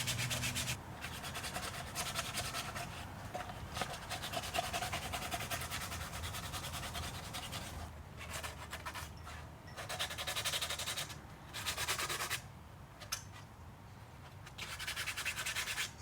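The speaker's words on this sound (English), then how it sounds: "start wet sanding" Steady back-and-forth rubbing of wet sandpaper against a hard cosplay mask, a rhythmic scratchy swish with short pauses between strokes.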